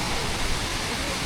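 A waterfall in northern Laos roars as a steady, dense wash of falling water, loud and continuous throughout.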